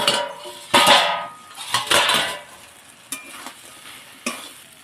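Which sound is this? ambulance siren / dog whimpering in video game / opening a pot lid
opening a pot lid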